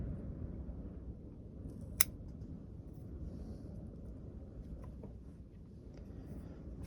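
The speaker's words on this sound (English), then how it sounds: "I think we can trim this back to here." A single crisp snip of pruning shears cutting a branch of a variegated Portulacaria afra, close and brief, over a low steady background hum.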